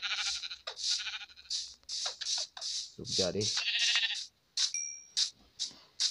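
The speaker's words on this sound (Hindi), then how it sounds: "यहाँ पर दो भेड़ है तो चलो हमारा काम हो जाएगा।" Minecraft sheep give several short, repeated in-game bleats up close, interleaved with someone talking over the game sounds.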